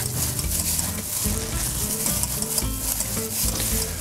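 Meat mixed by hand or spoon with softened tortilla chips and highly seasoned chorizo for Mexican meatballs, a steady close wet squelching and stirring that runs without pause and without talk.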